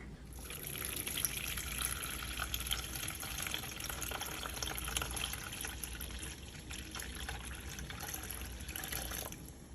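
Water runs steadily into a container for several seconds, a continuous trickling, splashing flow heard close up with no talking.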